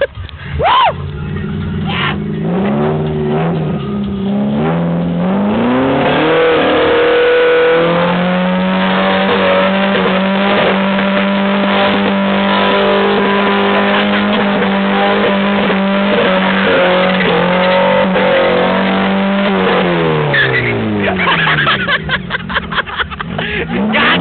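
A Jeepster's engine revs hard and holds a steady high drone for most of the stretch, then winds down near the end, loud and close. Voices are heard faintly in the background.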